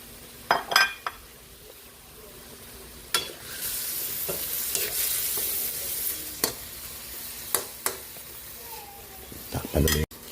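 Broccoli, carrots and beans stir-fry in a pan with a bright, continuous sizzle that swells as the vegetables go in. A spatula clinks and scrapes against the metal now and then, and someone speaks quietly in the background.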